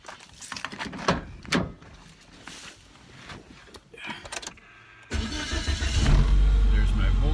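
A car engine cranks and catches after a GM alternator upgrade, the first few seconds holding clicks and brief bursts before a loud, steady running rumble takes over near the microphone.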